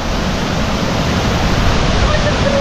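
The Uchan-Su waterfall near Yalta, in heavy flow, roars in a constant, dense rush of water, loud and close, with no other sounds breaking through.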